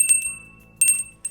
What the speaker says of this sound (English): And here's our Salvation Army bell.